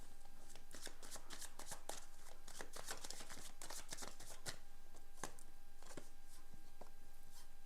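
Tarot cards being shuffled by hand, a steady run of crisp riffling slaps and flicks, fairly close and quiet, with no talking.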